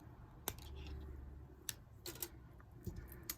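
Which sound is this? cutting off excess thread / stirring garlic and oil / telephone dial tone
cutting off excess thread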